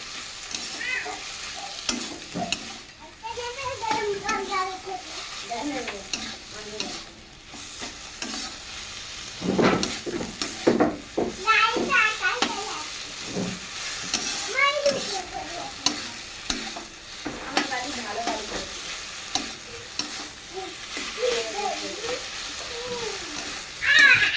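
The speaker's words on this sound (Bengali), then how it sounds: "কাসুন্দির শাক দিয়ে নোটের শাক ভাজাটা হয়ে গেছে" Note greens frying with kasundi mustard sauce in a pan, a continuous soft sizzle broken by repeated stirring scrapes and clatters of the spatula, close and fairly quiet, with no talking.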